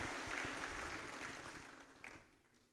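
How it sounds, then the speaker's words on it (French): Applause from a conference audience at a panel session in Senegal, a dense even patter fading gradually toward the end, moderately distant and fairly soft. "Bravo, merci de les applaudir, s'il vous plaît, pour le chemin parcouru."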